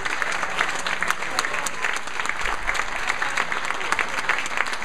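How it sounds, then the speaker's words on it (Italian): Steady, dense audience applause fills the room at a Lazio event for presidential candidates gathered on stage, sustained and fairly loud throughout, with a faint tone and voices mixed underneath. "fare un applauso loro"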